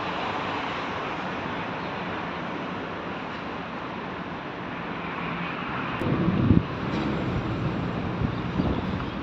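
Strong wind buffeting the microphone in a steady roar, with a brief louder gust near the end.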